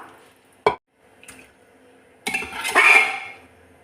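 Cooked chicken tipped into a pot of Mexican spinach chicken curry, a sharp clatter and wet plop followed by a longer burst of clinking and splashing as pieces land and settle.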